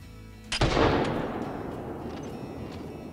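A single loud Coachmate 45-70 rifle shot fires in the hunting game Call of the Wild, a sharp crack followed by a long rolling echo that fades slowly.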